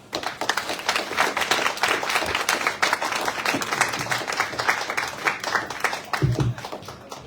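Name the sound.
audience applause welcoming a speaker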